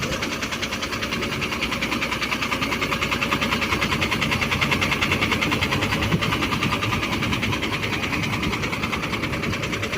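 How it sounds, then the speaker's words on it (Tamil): Rear-mounted diesel engine of a brand-new Leyland low-entry city bus in Chennai with a Viswa coach body, idling with a steady, loud, throbbing rumble and a constant rhythmic knock, heard alone without talk. "இந்த ரியர் இன்ஜினுடைய சவுண்டு பாருங்கள்."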